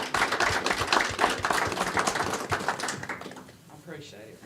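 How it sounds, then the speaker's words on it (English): A room at a town council meeting breaks into a round of applause with dense, brisk clapping for about three seconds, which then fades as a voice begins speaking. "And I think that needs a round of applause."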